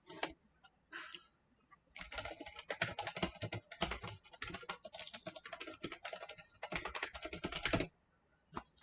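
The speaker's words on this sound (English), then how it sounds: "This is a membrane keyboard." Rapid, uneven typing on an old Apple membrane keyboard, soft close keystrokes in bursts with short pauses between runs, no talking.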